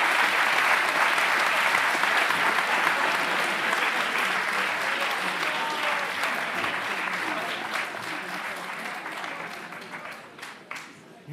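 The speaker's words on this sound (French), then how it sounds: "un tonnerre d'applaudissements, s'il vous plaît" Loud, dense applause from a large audience at an HEC Paris eloquence contest final, sustained throughout and slowly thinning toward the end, with some scattered voices mixed in.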